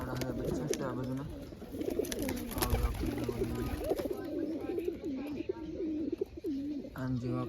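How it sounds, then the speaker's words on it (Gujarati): Young pigeon chicks coo repeatedly close by in a soft, rhythmic warble, with someone talking over them and some background clatter. "જો અત્યારે કબૂતર આવડા બચ્ચા છે આ બાજુના."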